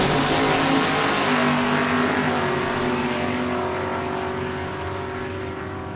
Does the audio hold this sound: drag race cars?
yes